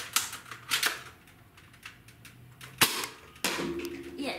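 A toy foam dart blaster fires four darts, each a sharp, close snap or pop set apart by uneven gaps, with faint handling noise between shots.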